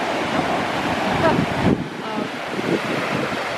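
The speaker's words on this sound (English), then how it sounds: "we're getting shots of it now, of the Pacific Ocean" Pacific Ocean surf and wind along the California coast, a continuous close rush of waves with buffeting wind across the microphone, and a voice speaking faintly underneath.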